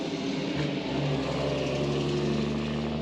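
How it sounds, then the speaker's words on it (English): Buses rumble past nearby on a road at a Northern Territory free camp, a continuous loud engine drone with deep low hum and no pauses. "Noisy buses."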